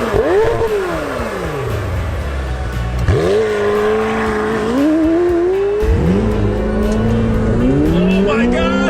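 A 2019 McLaren 720S launches from 0 to 60, its engine roaring up through rapid gear changes, each climb in pitch cut by a sharp drop, loud and close from inside the car, with a voice reacting under it.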